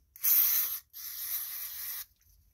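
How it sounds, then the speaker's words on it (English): Two close, loud hissing bursts of aerosol cleaner sprayed into a push mower's carburetor bowl, the first short and the second longer, with brief silence between and after. "Don't forget to spray out your bowl."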